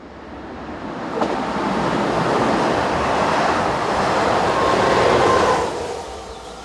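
A train pushed from the rear by electric locomotive BB 25654, the 07:15 from Chalon to Dijon, rumbles past with a broad steady roar that swells and fades, heard alone.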